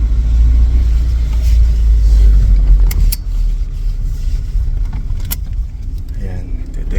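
A 1999 Honda Civic fitted with DC Sports headers runs loud and raspy, a steady low engine rumble holding throughout with some rattling, while people talk over it.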